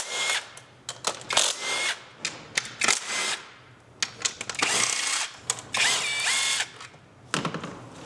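A power tool pulls bolts from the top mount intercooler of a 2022-or-later Subaru VB WRX in repeated short bursts of whirring and ratcheting, with metallic clicks and clatter between them. The sound is close and fairly clear.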